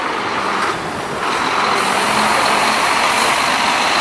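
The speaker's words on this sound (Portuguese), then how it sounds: "Paralelo 1200 da Gontijo, saindo para a cidade de Prado." A Gontijo Paralelo 1200 coach pulls out of the Tietê bus terminal, its engine a steady, loud rumble with a brief hiss midway, amid the continuous din of the busy station.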